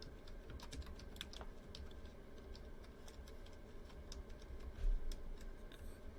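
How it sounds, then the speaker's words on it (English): Irregular keystrokes tap out a search on a computer keyboard, close and quiet, in a soft flurry of clicks with short pauses, no voices over them. "if I just do a simple Google search and type in President McKinley"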